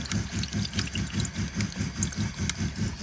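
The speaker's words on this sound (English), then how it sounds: "Let's give it a little rinse." Water runs from a tap over an RV shower drain filter inside a Winnebago Travato camper van, a quiet, continuous splashing with a soft pulsing rhythm throughout.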